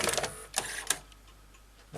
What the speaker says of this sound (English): Insert a tape.